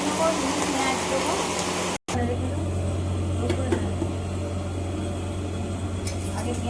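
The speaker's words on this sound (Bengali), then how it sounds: "এখানে আমার মাছ ভাজা হয়ে গেছে, সব মাছ ভাজা হয়ে গেছে।" Fish frying in hot oil gives a steady, close sizzling hiss, briefly cut off, then continuing over a low, constant hum.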